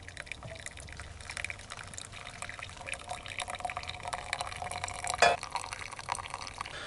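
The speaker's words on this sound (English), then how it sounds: "I finally picked up myself a water filter pitcher. This is made by Zero Water." Water pours into a Zero Water filter pitcher with a soft, steady splashing and trickling, close but quiet, with a brief clink or splash near the end.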